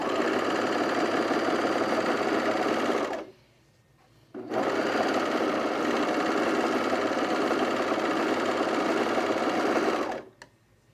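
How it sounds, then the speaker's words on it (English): An overlocker sewing machine stitches along a fabric edge while a zip hoodie is being sewn, giving a loud, steady mechanical whir in two long runs split by a brief pause, with no talking. "So I'm going to overlock this edge."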